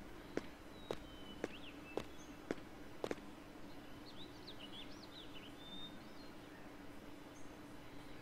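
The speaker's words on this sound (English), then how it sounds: "each time I hear these freaking birds" Birds chirp in the Persona 3 FES video game, short high warbling calls scattered over a soft steady background, with several sharp regular footstep-like clicks in the first few seconds.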